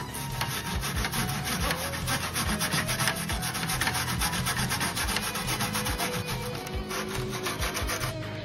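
A toothbrush scrubs back and forth across an NES cartridge connector, a steady, close, dry rubbing that keeps up without a break, with no talk over it.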